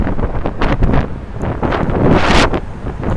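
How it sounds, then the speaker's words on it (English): Strong wind buffets the microphone in loud, continuous gusts on a ridge in the lower Hudson Valley, rumbling and roaring throughout with no voices. "It's windy."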